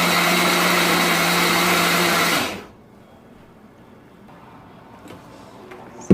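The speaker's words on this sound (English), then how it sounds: "plug that in and start blending" An electric blender whirs loudly at a steady high pitch for about two seconds, then cuts off, leaving near silence with faint clicks.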